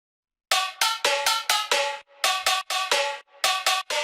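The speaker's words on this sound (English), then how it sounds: "I'm going to show you the drop lead and it sounds like this." A bright, percussive synth lead one-shot for a moombahton drop plays in a loud, choppy rhythmic pattern of short stabs with brief gaps, with no voices.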